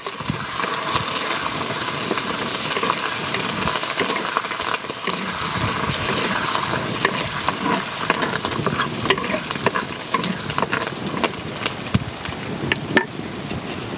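Curry leaves hit hot oil in a pan while cooking jeera rice, giving a steady, dense sizzle and crackle that runs unbroken and close throughout, with faint stirring scrapes mixed in.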